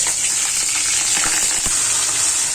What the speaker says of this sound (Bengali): কড়াতে একটু তেল দিয়ে দিয়েছি, সরিষার তেল, আর ফোড়ন দিয়ে দিয়েছি কালো জিরে